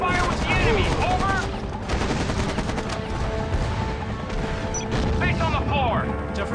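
Battle sounds in the PC strategy game Act of War: Direct Action: rapid bursts of automatic gunfire and crashing impacts layered densely throughout, loud and continuous, with radio-style voices speaking over the combat.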